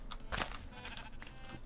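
Sheep in Minecraft give a couple of short, wavering bleats close by over faint background game noise.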